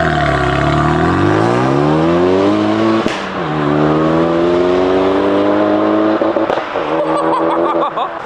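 A tuned Renault Mégane RS accelerates hard, heard from outside, its loud engine note climbing through the revs with a sharp crack at each of two gear changes before pulling up again.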